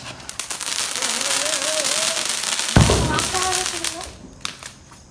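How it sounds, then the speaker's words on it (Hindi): Firecrackers bursting during a family Diwali celebration, a dense crackle of pops and bangs with a sharp close blast midway, under excited talk. "इधर फटाका है भाई।"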